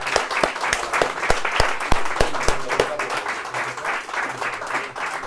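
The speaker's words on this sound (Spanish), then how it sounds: "quiero pedir un fuerte aplauso para Daniel" An audience at a talk on UFOs applauds a speaker with sharp, close individual claps over a broad, steady crowd clapping that continues throughout, with faint voices underneath.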